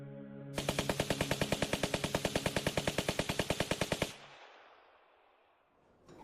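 Soldiers firing a machine gun in an audio drama: a rapid, evenly spaced burst of around thirty loud shots lasting several seconds, then a fading echoing tail.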